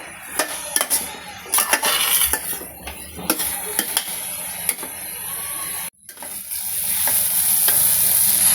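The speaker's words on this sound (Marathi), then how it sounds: "गॅस आपल्याला मीडियम टू हाय ठेवायचा आहे। चांगल्या प्रकारे परतवून घ्यायचं आहे।" Tomatoes and onion being sautéed over medium-high heat for a prawn biryani, with steady frying and sizzling and repeated scrapes and clinks of a spoon stirring in the pan, briefly cut off near the end before the sizzle resumes.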